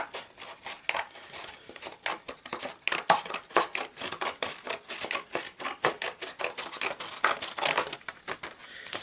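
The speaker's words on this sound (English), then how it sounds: "I'm going to cut that along" Rapid, crisp snips of scissors cutting through card for a homemade Power Rangers Chinese New Year greeting card, close and distinct, with steady repeated cuts and no talking.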